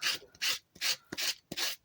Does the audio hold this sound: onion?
no